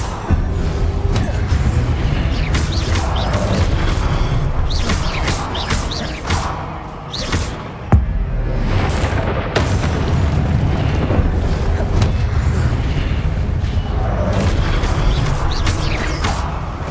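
Incendio fire spells blasting repeatedly in Hogwarts Legacy, a sustained run of booming, roaring bursts with sharp cracks, one sharp hit near the middle and brief dips between volleys, continuous and loud throughout.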